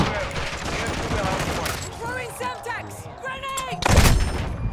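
Dense gunfire from Call of Duty: Modern Warfare 2 multiplayer, a steady spray of rapid shots across the whole stretch with a heavier burst near the end, mixed with game effects and some talk.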